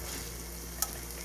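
A beef patty sizzles steadily in a pan with a soft, constant frying hiss and one brief sharp crackle.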